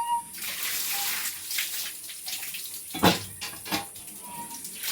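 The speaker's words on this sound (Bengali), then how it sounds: "একটু ভিজিয়ে রেখে দেবো, কাদা কাদাগুলো সব পরিষ্কার হয়ে যাবে" Water sloshes and splashes steadily as taro stems are rinsed in a bowl to wash off mud, with a few louder splashes near the end and faint background noise throughout.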